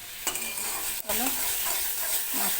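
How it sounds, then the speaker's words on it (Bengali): A ground spice masala of coriander, turmeric and Kashmiri chilli sizzles and fries in a pan while a spoon scrapes and stirs it, giving close crackling with a few sharp scraping strokes, no talking. "মশলাটা কষিয়ে নিই।"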